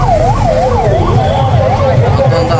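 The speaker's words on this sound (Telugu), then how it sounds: "చూసారా అంబులెన్స్లు ఎలా వెళ్తా." An ambulance siren wails loudly and steadily in a rising-falling pattern as the vehicle pushes through a dense Ratha Yatra festival crowd, with crowd noise and a voice underneath.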